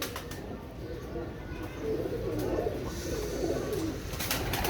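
A flock of kept pigeons coos in a steady, soft, rolling murmur that swells slightly midway, with faint chirps and a hint of background noise.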